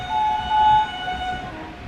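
A passing train hauled by a WAP 7 electric locomotive from the Siliguri shed on the Northeast Frontier Railway, with a steady rumble and two sustained horn-like tones swelling and fading over a couple of seconds, fairly loud and close.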